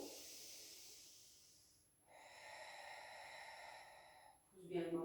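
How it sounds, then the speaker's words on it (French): Long, audible breaths in and out during a Pilates exercise, a drawn hiss of exhalation followed by a breathy snort near the end, faint and close. "Inspire et tu souffles."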